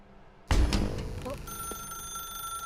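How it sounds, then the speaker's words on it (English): A telephone rings in the video game The Stanley Parable: Ultra Deluxe, starting with a sudden loud burst and then holding a steady, sustained electronic tone with no one talking. "Now pick up the phone."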